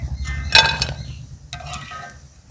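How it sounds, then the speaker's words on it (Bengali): Crisp fried gathiya, a gram-flour snack, crunching and snapping with a few sharp brittle breaks, a loud burst early and lighter crackles later, over a low steady background hum. "আওয়াজটা শুনেই বুঝতে পারছেন কতটা খাস্তা হয়েছে ভেতর থেকে।"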